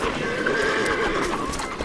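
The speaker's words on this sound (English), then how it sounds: "it is time for the annual roundup of the mares and foals" Mares and foals gather at an annual roundup in Coto Doñana, Spain, with a loud nearby whinny rising over a busy background of hooves and other horses.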